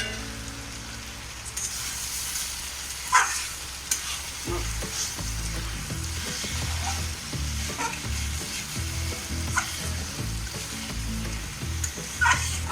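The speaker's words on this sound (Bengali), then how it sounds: "মেটে দিয়ে এবার একটু কষবো ভালো করে" Mutton liver stir-fried in a pan, with a steady loud sizzle and rhythmic scraping strokes of the spatula repeating close by, no talk.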